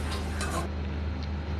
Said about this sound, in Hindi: तो एक बार इनको हम अच्छे से मिक्स कर देंगे।